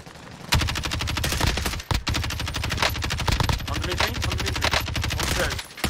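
Kilo 141 assault rifle fire in a shooter video game comes as long, rapid automatic bursts with a sharp, close, loud repeating crack and one brief pause. A voice is faint underneath.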